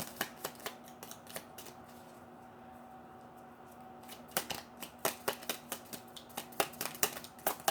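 Tarot cards being shuffled and drawn during a reading, a run of crisp close flicks and snaps at first, a quieter pause, then a denser burst of rapid card riffles.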